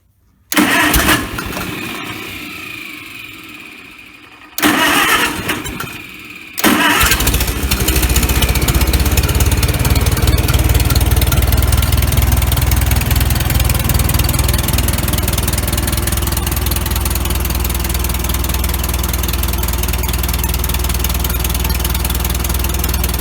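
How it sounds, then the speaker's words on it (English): An International 330 Utility truck engine, choke pulled and out of gear, cranks in bursts that stall, then catches and runs at a steady loud idle close by for the rest of the clip, with no talking. "So let's see if we can get this started up here."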